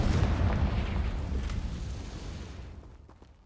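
A Confringo spell blast in a Hogwarts video game, a loud booming explosion with a dense rumbling roar that slowly fades over a few seconds.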